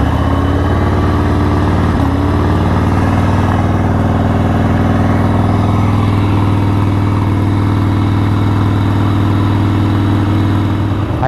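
A 1988 Harley-Davidson Sportster XLH 1200 idles with its choke pulled out, giving a loud, close, steady rumbling beat that holds evenly the whole time, with no voices over it.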